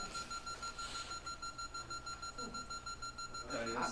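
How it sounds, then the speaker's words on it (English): A building alarm rings during a historical society talk, a steady high electronic tone pulsing rapidly and evenly throughout, with voices murmuring and speaking underneath toward the end. "I think it's the alarm."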